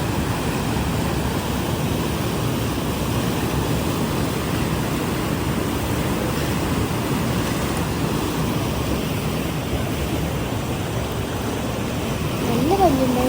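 River water in Kollengode, Palakkad, Kerala rushes steadily and fairly close, a dense continuous wash with no breaks, and a brief voice surfaces near the end.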